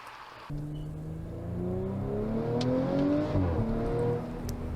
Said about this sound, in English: You can hear that the V6 is a bit more fleshed out, has a bit more oomph